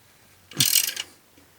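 A single short ratcheting burst as a cap on a 2015 Toyota RAV4 oil pan is torqued down to 12.5 foot-pounds with a torque wrench, faint and close, with quiet surroundings before and after.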